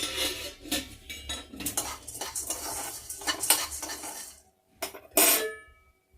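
Chana dal being dry-roasted and stirred in a pan: a busy run of scraping, clinking spoon-on-metal strokes and rattling grains, close and uneven, pausing briefly near the end before a final burst of clatter.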